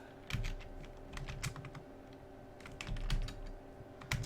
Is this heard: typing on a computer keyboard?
yes